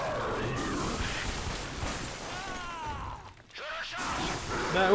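Mechanical clicks and clacks of a weapon being reloaded in the video game Dark Sector, heard over loud, dense game noise with brief swooshing sounds.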